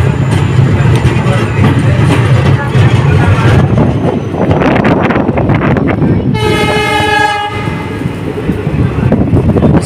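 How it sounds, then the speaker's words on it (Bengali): A passenger train pulls out of Alipurduar Junction with a loud, steady rumble of wheels and carriages close by. A long, bright horn blast sounds near the end over the continuing roar. "আলিপুরদুয়ার জংশন থেকে আমাদের ট্রেন ছেড়ে দিল"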